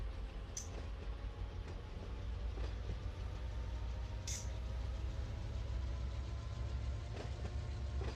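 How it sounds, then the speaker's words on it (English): In the Run 8 train simulator, a freight train pushed uphill gives a faint, steady low rumble, broken by a few sharp metallic clicks and squeals scattered through it. "I am pushing the whole train uphill though"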